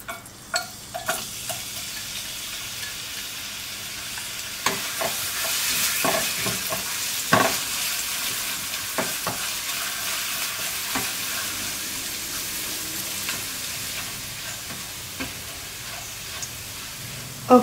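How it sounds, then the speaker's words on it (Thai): Garlic frying in a little coconut oil for a bok choy oyster-sauce stir-fry, a gentle, steady sizzle with occasional scrapes and taps of a utensil against the pan, and no voices. "ใส่น้ำมันมะพร้าวลงไปเล็กน้อยนะคะเพื่อนๆเดี๋ยวเราจะเจียวกระเทียมให้หอมกันก่อนนะคะ"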